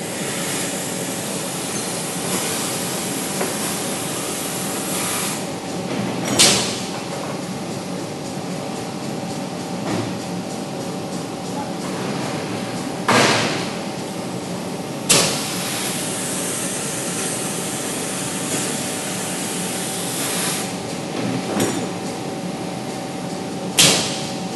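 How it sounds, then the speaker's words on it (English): A Whitney 3400RTC air cleaner, the smoke eater on a metal-cutting table, roars with a constant broadband rush, punctuated every few seconds by sharp, loud bursts as it purges its filters. "Every time you hear that purge sound, that's the air cleaner, which is the smoke eater, purging the filters to keep them clean"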